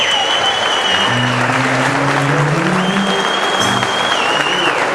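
An audience stands and applauds in a steady, loud wash of clapping, with some voices and cheers mixed in underneath.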